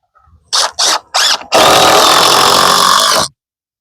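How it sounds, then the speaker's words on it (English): Three short bursts from a power drill, then one long steady whirring run as a screw is driven into wood on a window header, loud and close, with no talking. "So we're gonna screw this down, and I'm gonna put a couple in from the sides as well."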